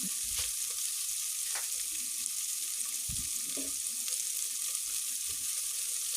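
Two sliced onions with a little salt sautéing in a pan, giving a steady close hiss throughout with a few soft thumps and stirring scrapes, no voices.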